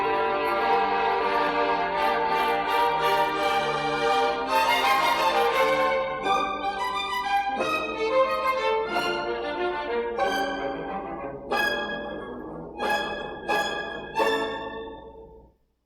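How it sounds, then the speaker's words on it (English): An orchestra's string section playing together, full sustained chords and moving melodic lines with lush layered harmonies, loud and close, ending in a few detached phrases before fading to silence. "Together, the string section sounds like this."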